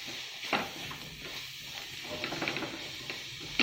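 Beetroot sabji with coriander powder and garam masala is stirred in a hot pan, a soft steady sizzle under scraping spoon strokes, close and moderately quiet.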